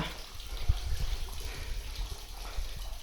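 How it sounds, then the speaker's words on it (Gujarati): Water trickles and splashes steadily out of a plugged farm borewell, a continuous close wash of flowing water with no one talking. "એમાંથી પાણી થોડું થોડું જો કેવી રીતે પડે છે એટલું એટલું પડે છે પાણી"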